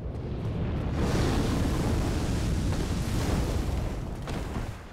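Fire roars steadily in the video game Dark Souls Remastered, a loud, dense, unbroken rumble that holds at full strength for the whole stretch with no talk over it.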